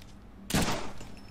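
A single loud burst of gunfire in the Deadpool video game cuts in suddenly after a quiet moment, then trails off into a lingering rumble, with no one speaking.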